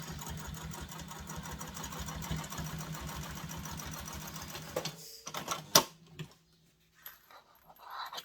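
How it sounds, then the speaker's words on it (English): A sewing machine runs a long basting stitch around the stacked layers of a diaper bag, humming steadily for about five seconds before it stops. A few handling clicks and soft rustles follow. "then we're going to baste all the way around. So lengthen your stitching to your top stitching length."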